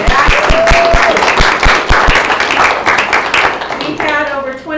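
Brief crowd clapping at a school district board of education meeting, with a burst of applause and cheering that fades under a speaker's amplified voice.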